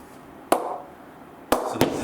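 Three sharp, hard cracks of a cricket bat striking a harder test ball, the last two close together, each ringing briefly against quiet background noise.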